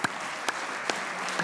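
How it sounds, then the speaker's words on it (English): An audience applauding at a microfinance conference: a steady, fairly quiet wash of many hands with a few sharper claps standing out, no voices over it. "that deserves a round of applause"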